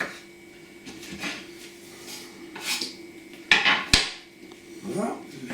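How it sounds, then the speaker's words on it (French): A knife cutting through soup vegetables into thin lengthwise strips, close and fairly quiet, with soft scattered cuts and two sharper knocks of the blade against the board in the middle. "On découpe sur le sens de la longueur, en épaisseur, et on fait des petites lamelles sur le sens de la longueur"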